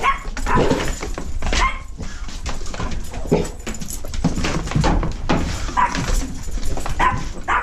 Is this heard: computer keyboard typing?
no